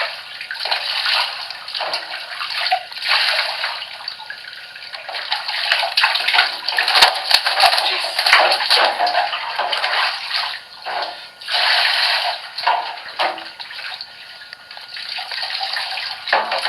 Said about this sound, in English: Give you the final rinse here.